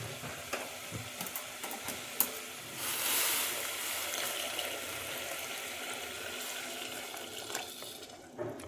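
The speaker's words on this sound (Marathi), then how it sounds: "त्यात आपण गरम पाणी घालूया." Hot water is poured into a pan of potato curry on a high flame, and a loud hissing, bubbling rush swells midway before settling into a steady simmering sizzle.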